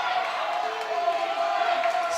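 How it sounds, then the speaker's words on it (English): Spectators at a boys varsity high school basketball game keep up a steady roar of crowd noise in a gym, heard under a commentator's talk. "Sting crowd is very excited here."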